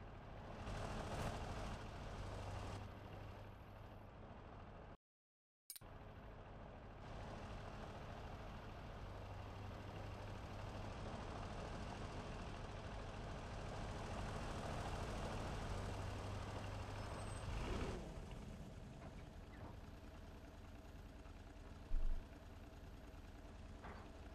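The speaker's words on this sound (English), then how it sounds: "Gives the truck enough time to properly stop and then get out." Diesel engine of a military truck in Gates of Hell idles steadily with a low rumble throughout, a brief gap partway through, and a couple of short transient bumps; no clear reversing beeps stand out.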